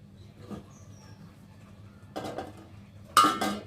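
A spoon clinks and scrapes against a cooking pot while dal with turmeric and salt is stirred, quiet at first and then a few louder metallic knocks near the end.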